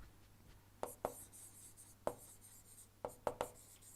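Marker or chalk writing out equations during an engineering lecture on gas compressors, a few faint scratchy taps and short strokes in a quiet room, with no talking.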